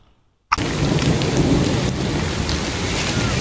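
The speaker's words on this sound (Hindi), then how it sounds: "बादल के गरजने की भी आवाज़ें आ रही हैं" After a brief moment of silence, heavy rain pours down loudly and continuously on a village while low thunder rumbles through the downpour.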